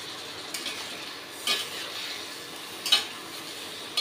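Turmeric and spices frying and being stirred in a pan for a Bengali rohu fish curry, a steady close sizzle with a few sharper scrapes of the spoon against the pan.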